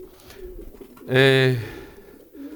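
A pigeon offered by a Polish breeder gives one clear, close coo lasting about half a second, rising out of a quiet room with faint background murmur.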